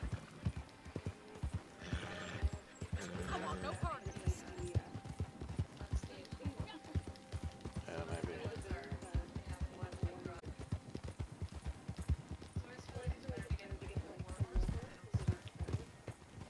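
Hooves clop in a steady, rapid galloping rhythm throughout, with a horse whinnying and a voice talking over it, in the video game Red Dead Redemption 2 Online.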